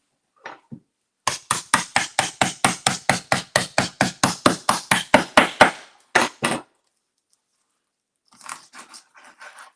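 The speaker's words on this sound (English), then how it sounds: "I'll use the hammer to actually cut. The bone." A rapid series of about twenty sharp, loud chopping blows from a hammer strikes through chicken bone, followed by a few more whacks and then lighter scraping.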